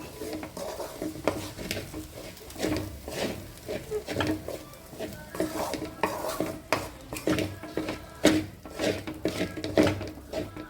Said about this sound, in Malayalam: നന്നായി ഒന്നുകൂടി ഇളക്കാം